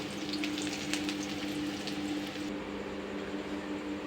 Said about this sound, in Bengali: পেঁয়াজটা আমি বেরেস্তা হওয়ার জন্য ছেড়ে দিলাম তেলে